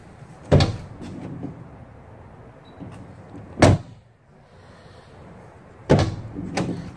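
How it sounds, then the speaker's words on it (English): Insulated Mercedes Sprinter van doors being shut, three solid thuds spaced a few seconds apart with quieter handling noise between, close up and without talk. "Can't stop opening and closing the doors now."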